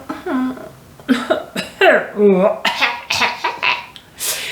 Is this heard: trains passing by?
no